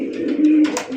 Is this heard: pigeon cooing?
yes